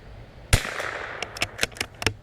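A .22LR precision rimfire rifle fires at steel targets outdoors, giving one sharp, loud crack followed by a quick series of lighter, clipped pops and pings spaced a fraction of a second apart.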